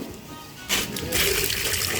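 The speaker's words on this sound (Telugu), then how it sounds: "కొద్దిగా సరిపోయినంత కొద్దిగా మనం వాటర్ వేసుకోవాలి" Water splashes into a pot in a short burst after a brief quiet moment, close by.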